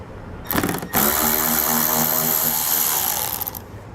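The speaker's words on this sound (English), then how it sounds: "Now pull these out, we're going to be using a T30 Torx bit." A power drill fitted with a T30 Torx bit backs fasteners out of a 2018 Alfa Romeo during hitch installation, two loud whirring bursts, the second held steadily for about three seconds before winding down.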